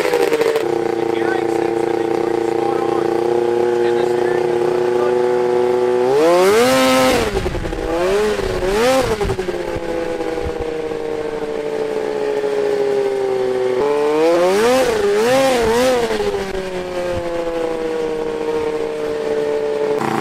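A 120hp engine-swapped AWD buggy on its first test drive, drive shaft removed, idles steadily then revs up in two strong bursts with rising and falling pitch, loud and close throughout.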